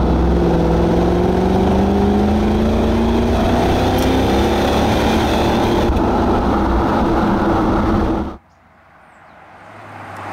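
A Lexus GS F in Sport Plus mode pulls hard, its engine note climbing steadily in pitch under a loud continuous roar of intake and road noise before cutting off abruptly near the end.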